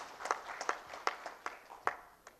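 Sparse, faint clapping from a few people in a conference hall at TiEcon 2013 in Kerala. About a dozen distinct, separate claps are spaced unevenly over a quiet background.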